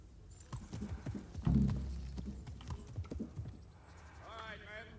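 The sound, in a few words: horses clip-clopping as riders set off, Kingdom Come Deliverance video game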